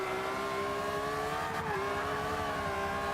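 Lamborghini Aventador LP700 AWD drift build in Forza 5 holding a high, steady engine rev while drifting, loud and sustained with a brief wobble midway, no talk.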